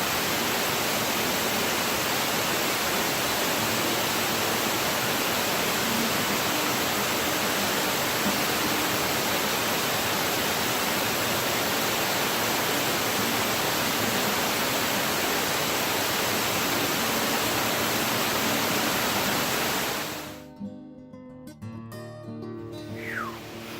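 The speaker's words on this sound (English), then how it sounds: "Virginia Hawkins Falls. There's the waterfall there." Virginia Hawkins Falls roars as a loud, steady broadband rush of falling water, which drops away sharply near the end, leaving quieter outdoor sounds.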